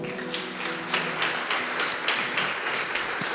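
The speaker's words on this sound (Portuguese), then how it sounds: "Você pode aplaudir ao Senhor?" A church congregation at a Sunday evening worship service applauds in praise, a steady wash of many hands clapping with a faint tonal hum of music or voices underneath.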